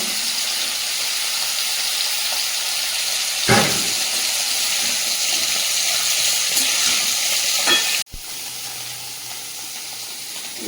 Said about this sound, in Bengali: কাঁকড়াটা ভেজে নিয়েছি, এবার সবজিগুলো দিয়ে দেবো। এতে লাগছে কাঁঠাল দানা, লাউ ডাঁটা আর আলু।